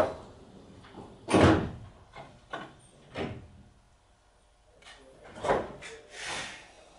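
Sliding doors on a Seibu Chichibu Line train close with several thuds and rumbling bumps spread over a few seconds, heard from inside the carriage under a low steady hum.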